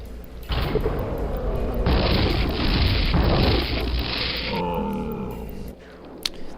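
A rocket jump in Quake in a grotto-like map: a loud, roaring explosive blast sustained for several seconds, then tailing off with a rumbling decay and a small sharp click near the end.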